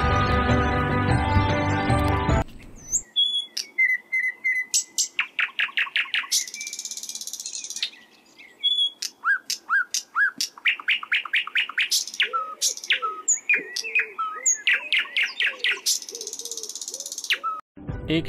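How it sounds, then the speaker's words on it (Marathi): Birds chirp in the Konkan countryside of Sindhudurg: rapid, close series of sharp tweets and trills repeat steadily, with no talk, after a brief loud burst of other sound at the start. "एक क्षण या पक्ष्यांचा किलबिलाट असाच ऐकत राहावा असं वाटत होतं."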